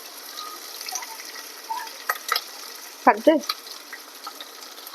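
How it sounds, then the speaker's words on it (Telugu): Onions and green chillies frying in oil and ghee give a faint, steady sizzle, with a few light stirring scrapes and clinks of a spoon against the pan. "ఆనియన్స్, పచ్చిమిర్చి వేసుకొని లైట్ గోల్డెన్ కలర్లోకి వచ్చినంత వరకు అయితే ఫ్రై చేసుకోవాలండి"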